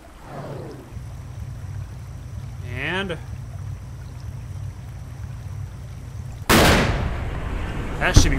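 A rifle shot at a Cape Buffalo in a hunting video game rings out as one loud, sharp report late on, decaying over a steady low ambient hum, with a fainter crack just after.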